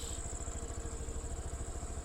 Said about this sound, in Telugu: బైక్ రైడింగ్ వెళ్తున్నాం